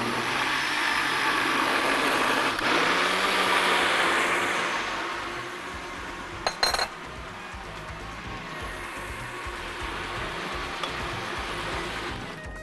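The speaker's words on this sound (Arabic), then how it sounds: "هبدا ان انا اضرب كل الكلام ده في الخلاط اخليه ناعم خالص" A blender whirs loudly with a motor drone, winds down after a few seconds, then a couple of clicks and a quieter hum continue.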